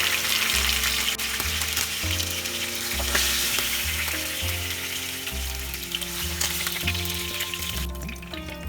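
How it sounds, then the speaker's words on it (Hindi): Salmon fish pieces shallow frying in oil in a pan, a steady, loud sizzle and crackle that runs without a break, with no talk over it. "इसी तरह शैलो फ्राई करना है"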